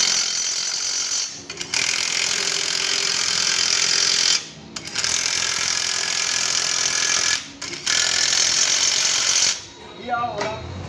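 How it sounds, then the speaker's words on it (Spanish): Power tool tightening the screws of a corrector plate on a vehicle's wheel alignment setup, loud rattling runs of a few seconds each broken by short pauses, close. "vamos a apretar los tornillos de la platina correctora."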